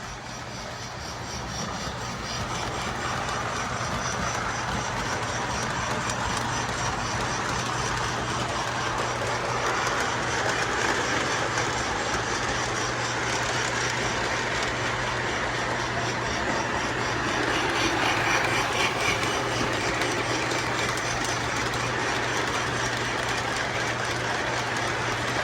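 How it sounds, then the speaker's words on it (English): A Lionel Lion Chief Thomas the Tank Engine toy train with smoke and a flickering firebox runs steadily, a continuous close motor whir and rolling rumble with a constant low hum, holding an even level throughout. "A Lionel Lion Chief Thomas the Tank Engine set with smoke"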